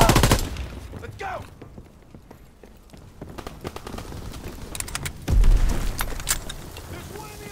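Scattered gunfire in a console shooter game, sharp shots and short bursts at varying distances, some faint and some close and loud, with intermittent voices.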